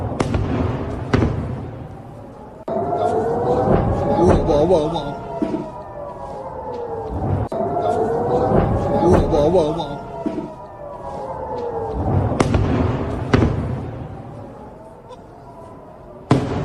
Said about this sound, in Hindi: इजरायली एयर डिफेंस सिस्टम किस तरह से आसमान में मिसाइलों को, ड्रोन्स को ध्वस्त करते हुए नजर आ रहे हैं